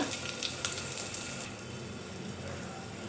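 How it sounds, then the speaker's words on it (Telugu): Mustard seeds, cumin, curry leaves, coriander, fresh garlic and asafoetida dropped into hot oil for tempering, a loud crackling sizzle with sharp popping spatters up front that eases into a steady hiss. "ఆయిల్ హీట్ అయింది ఇప్పుడు మనం పోపు దినుసులు వేసుకుందాం ఆవాలు జీరా కరివేపాకు కొత్తిమీర ఫ్రెష్ గార్లిక్ ఇంగువ"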